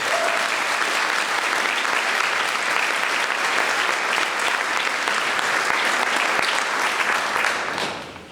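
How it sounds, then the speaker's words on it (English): Steady, dense applause from a large audience claps continuously for several seconds, then begins to fade at the end. "Let's give her another round of applause."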